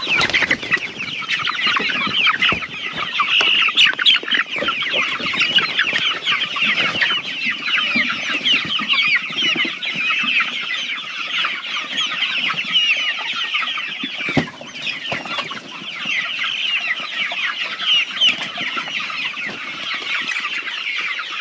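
Dense clucking from a flock of farm chickens, with a rooster among them, continues without pause, loud and close throughout, with no talking.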